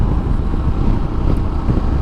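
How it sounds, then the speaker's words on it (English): Strong wind roars and buffets the microphone continuously on a Royal Enfield Himalayan ride, a dense low rumble with no other sounds standing out. "it's been absolutely windy as heck today"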